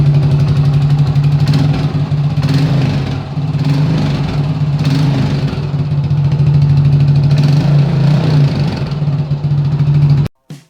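A Yamaha SR400 motorcycle with an aftermarket exhaust and smaller cone idles steadily up close, a loud, deep, even thrum running unbroken for about ten seconds before cutting off abruptly.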